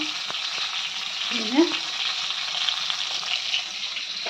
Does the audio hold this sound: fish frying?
yes